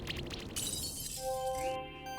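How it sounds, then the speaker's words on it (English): Freeze spell effect in the Monster Sanctuary video game: a loud glassy shatter that breaks into ringing tones and clinks, heard alone. "I like the shattering glass sound"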